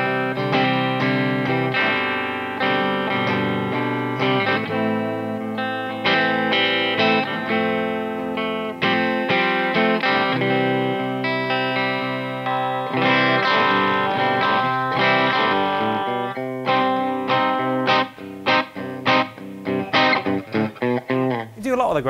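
A clean electric guitar, a Gretsch Electromatic, plays a steady run of chords and single notes, bright and close, ending in a few sharp plucked stabs.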